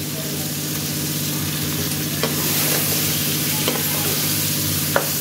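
Boiled potatoes with crushed ginger frying in a pan, a dense continuous sizzle, close and steady, with a faint low hum beneath and a few sharp clicks of a utensil against the pan.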